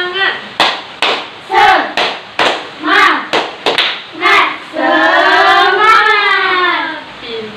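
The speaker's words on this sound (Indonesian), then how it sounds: "Nah, coba tepuk semangat dulu." Schoolchildren in a classroom perform a rhythmic spirit clap: a series of sharp, evenly spaced group claps mixed with short chanted calls, ending in a long, drawn-out shout from many young voices.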